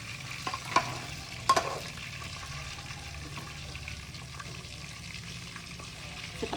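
Frog pieces sizzle steadily in a frying pan while being stirred and scooped, with a few sharp clinks of a utensil against the pan over a quiet, continuous fry.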